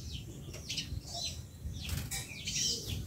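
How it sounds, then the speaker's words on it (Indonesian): Thin, high chirping calls of a prinia come in short repeated bursts over a low background rumble, with a flutter of wingbeats. "Itu adalah suara burung perenjak yang sampai sekarang belum mapan."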